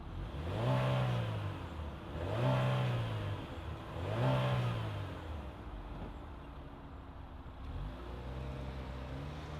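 A 2025 Chevrolet Malibu 1LT engine revs up in three rising bursts, each swelling and falling back, then settles into a steadier drone as the car pulls away; fairly loud and close, with no talk.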